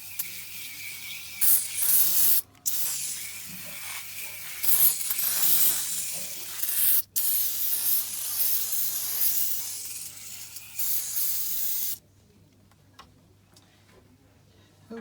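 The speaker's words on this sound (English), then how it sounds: "When I'm done spraying the cleaner on the front and back of this coil" Coil cleaner sprays onto a home air conditioner coil in repeated hissing bursts with brief gaps between them, close and fairly loud, then ends in near quiet.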